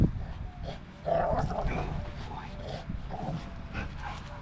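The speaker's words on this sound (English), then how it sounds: "See that dog barking." A reactive, dog-aggressive pit bull barks and whimpers in short, fairly close outbursts, with some background noise between them.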